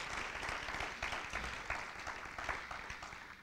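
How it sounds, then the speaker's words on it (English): A church congregation clapping their hands during a sermon, a fairly quiet, continuous patter of many hands blending into distant applause. "Somebody clap your hands unto the Lord and thank him."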